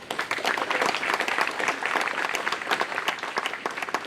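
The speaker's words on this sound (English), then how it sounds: "Please join me in applauding their efforts." An evening event celebrating Zimbabwe and the EU fills with dense, steady audience applause, many hands clapping together at an even level throughout, with no voice rising above it.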